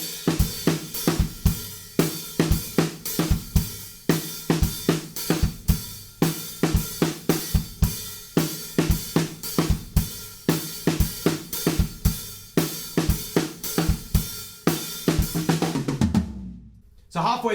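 A drum kit plays the chorus groove: driving, steady beats with punchy kick and snare and bright cymbals, loud and close, ending with a brief pause before the hits resume.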